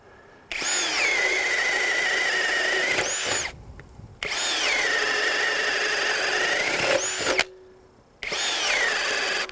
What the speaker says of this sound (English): continue drilling with this 7/8 inch drill